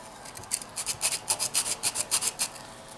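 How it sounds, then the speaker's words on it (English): Rhythmic rasping strokes of sandpaper rubbing back and forth on wood, about a dozen quick passes, close and fairly quiet. "I go back and forth and try to keep sanding it from time to time."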